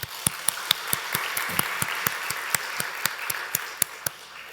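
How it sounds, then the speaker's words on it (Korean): A church congregation at a Sunday evening service claps for the praise team in a slow, steady rhythm of sharp, evenly spaced handclaps, moderately distant, over a quiet background of room noise. "우리 에베네셀 찬양단도 축복의 박수 해드립시다."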